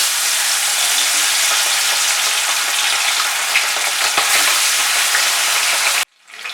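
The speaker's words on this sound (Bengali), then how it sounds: "মাছটাকে ভালো করে ভেজে নিয়ে তুলে নিচ্ছি" Pomfret fish fries in hot mustard oil in a wok with a loud, continuous crackling sizzle that runs unbroken for about six seconds before cutting off abruptly.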